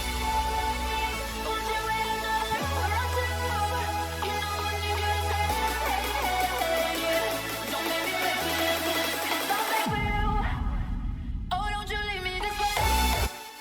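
Hardstyle remix build-up with layered synths, steady kick and snares, then a rising sweep and hard impact into a gap before the heavy kick returns; loud, dense and with no voices.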